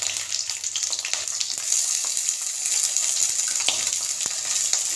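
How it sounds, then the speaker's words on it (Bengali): Prawns hit hot oil in a pan in a village kitchen, giving a loud, steady, hissing sizzle that runs without a break. "তেলটা গরম হয়ে গেছে, এবার দিয়ে দিচ্ছি চিংড়িগুলো"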